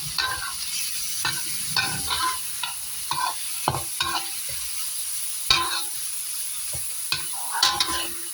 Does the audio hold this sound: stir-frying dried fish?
yes